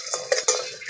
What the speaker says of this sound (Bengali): আমি গোটা বিরিয়ানির মশলা নিয়েছি, ভেজে নেব